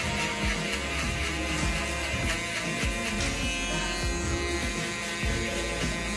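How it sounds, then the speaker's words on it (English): A steady, continuous buzz of an electric shaver running close up, unbroken throughout with no talking. "I'm gonna go with a shaver."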